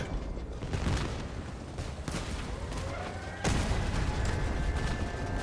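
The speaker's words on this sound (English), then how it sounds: "Lou, can you stop pussyfooting around and actually shoot?" Vehicle weapons fire in Crossout, a dense stream of gunfire and booms layered over constant game noise, growing louder and sharper partway through, with no talk.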